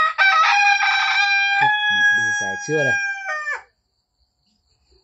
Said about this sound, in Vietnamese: À, gà. Con gà,